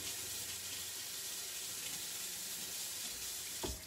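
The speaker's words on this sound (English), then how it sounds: "Let me rinse this off." Tap water runs steadily into a kitchen sink while a utensil is rinsed, a continuous close hiss with a brief clunk near the end.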